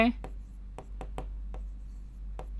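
A pen taps and scratches on paper in short, separate strokes during a Class 10 maths lesson on quadratic equations, close and fairly quiet over a low steady hum.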